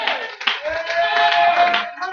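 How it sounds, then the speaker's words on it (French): A church congregation claps and cheers, with sustained voiced shouting riding over scattered hand claps. "Est-ce que vous pouvez faire une acclamation?"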